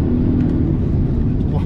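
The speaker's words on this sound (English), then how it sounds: "applying full acceleration" A Polestar 1 hybrid performance coupe accelerates at full throttle, giving a steady, loud, muffled drone of engine and road noise throughout, with no clear rise in pitch and no voice over it.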